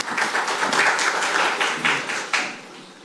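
An audience at a Korean public forum in Busan claps for a presenter, a steady, fairly loud wash of applause lasting about three seconds with no talk over it.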